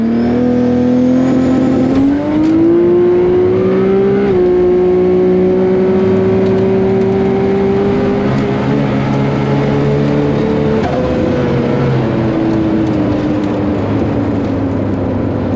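Heard from inside a Nissan S13 Silvia drag car during a quick drag-strip pass at about 167 mph, the engine roars loudly and steadily, climbing in pitch through each gear, with brief drops at the shifts.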